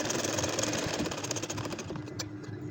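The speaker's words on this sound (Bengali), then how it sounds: "এই যে দেখেন সেলাই করতেছি।" Electric sewing machine stitching a date-palm-leaf nakshi kantha pattern on a quilt, a steady fast whirring run that carries on without a break, close and moderately loud with no talk over it.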